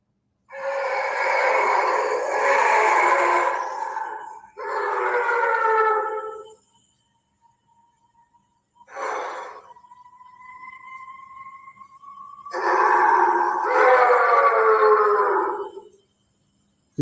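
Several animals howl back and forth at night, long wavering cries overlapping in loud bursts, with a thinner rising lone howl in a quieter gap midway before the chorus swells again.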